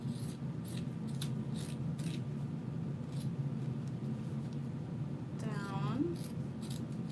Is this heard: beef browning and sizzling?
no